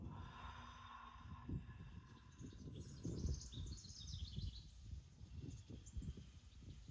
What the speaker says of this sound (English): enjoying the sounds of the birds